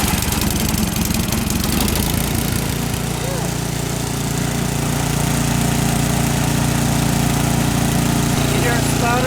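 A snow blower engine runs rough and uneven as its carburetor empties, a close, steady mechanical drone with slight stutters throughout.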